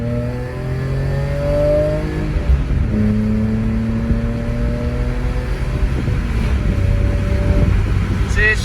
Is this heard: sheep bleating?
no